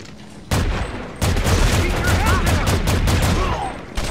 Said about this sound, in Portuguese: Olha, é uns tiros de longe, velho.